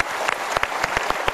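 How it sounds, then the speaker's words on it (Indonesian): A television talk-show studio audience breaks into applause, a steady wash of many hands clapping with sharper individual claps standing out, fairly loud and sustained for over a second with no voices on top. "Untuk Mas Pepeng kita berikan tepuk tangan"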